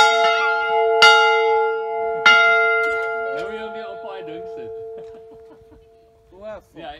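A bell in Klaarstroom rings out clearly twice, ringing tones decaying slowly, followed by a few softer chimes as voices talk quietly.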